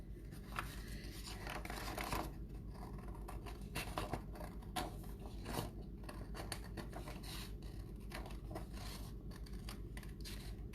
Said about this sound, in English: So I'm going to cut it out now. So I'm going to use, do I have my big scissors?